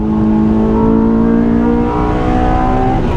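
A Honda AP2 S2000 track car pulls hard from inside the cabin, its engine note rising steadily in pitch as it accelerates, loud and close.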